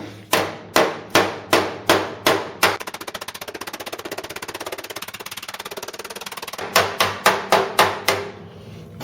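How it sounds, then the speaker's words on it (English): A ball peen hammer strikes a Cortina GXL car floor panel in evenly spaced metallic blows, close and sharp. A steady ringing drone fills the gap between the two runs of hits. "So when you strike now with a ball peen"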